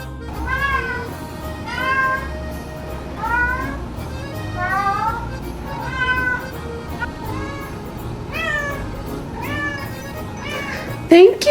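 A kitten meows repeatedly and close by, about a dozen rising, plaintive cries spaced a second or so apart over low background noise, with a sharp squeak at the end.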